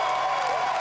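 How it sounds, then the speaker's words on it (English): Audience applauding at the Bethesda E3 2019 conference, a dense, steady wash of clapping from a large crowd, with no pauses. "It's like everybody's clapping."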